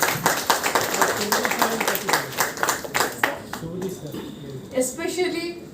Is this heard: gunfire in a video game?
no